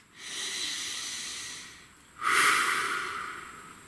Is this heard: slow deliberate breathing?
yes